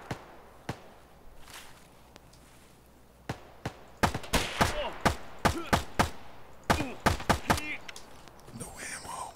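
In Escape from Tarkov, gunfire starts as a few scattered single shots and builds into rapid, close bursts of sharp cracks at uneven intervals.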